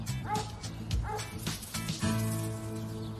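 A dog gives a run of yipping, whimpering barks, several short tonal yelps close by over a background of humming music.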